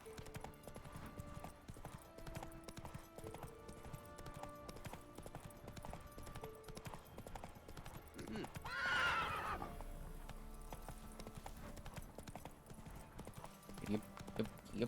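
Roach the horse clip-clops along in The Witcher, with a sharp neigh rising up midway, all set against quiet game music and a faint voice.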